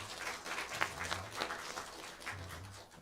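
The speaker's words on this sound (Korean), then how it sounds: "예배 잘 드리라고 우리 축복의 박수 보내드립니다" Congregants at a Korean Sunday morning church service clap softly with uneven, scattered hands, faint and distant in a large room, with a low hum underneath.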